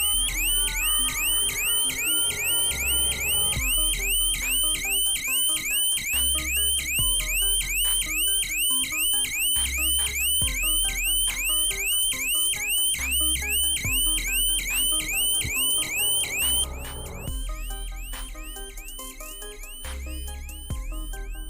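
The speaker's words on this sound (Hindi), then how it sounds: "अगर आपका शटर थोड़ा सा भी ऊपर उठता है तो हमारा डिवाइस किस तरीके से हैवी अलार्म बजाना शुरू कर देता है" A heavy shop-shutter security siren blares as the shutter is lifted, a loud, continuous electronic alarm with rapid repeating warbling sweeps and steady pulsing beats, then shifting pattern near the end.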